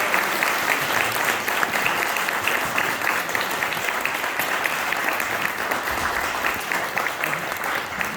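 Warm audience applause at a keyboard concert, a dense, sustained roar of many hands clapping evenly from start to finish.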